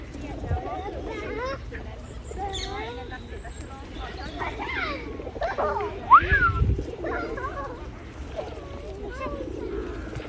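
Pigeons coo and murmur among parakeets in a London park, with soft warbling calls and chirps repeating close by over a steady outdoor hubbub and some distant voices.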